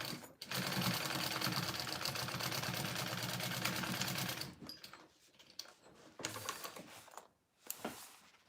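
A sewing machine runs in one steady, fast burst for about four seconds while stitching the lining of a mini backpack. It then stops and is followed by quieter handling noises and brief rustles.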